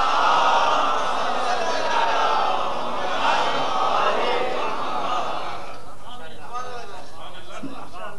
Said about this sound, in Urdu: اتنی بلند صلوات بھیج دیں محمد والے محمد پر